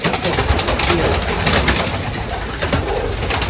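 Pigeons coo close by in a loft, soft repeated low throaty calls that overlap in a continuous murmur.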